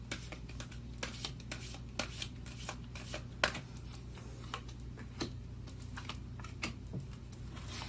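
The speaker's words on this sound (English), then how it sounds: "I do shuffle these in front of you so you see me picking them." A deck of angel answer cards is shuffled up close, producing quiet rapid clicking and riffling taps in irregular bursts over a low steady background hum, with no voices.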